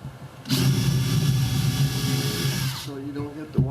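A power drill drills into a teardrop camper wall at close range for a couple of seconds, whirring steadily, then winds down and stops, followed by a brief trailing rattle.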